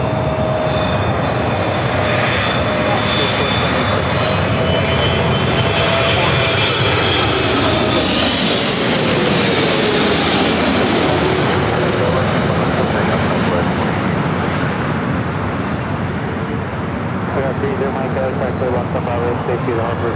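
An Eva Air jet airliner whose engines roar loud and close, swelling as it passes and fading afterwards, with a voice talking over it.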